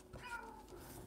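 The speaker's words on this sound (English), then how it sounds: "My cat's making this really awful meowing." A female house cat lets out drawn-out, awful-sounding meows, close and fairly clear, with a faint voice or murmur in the background.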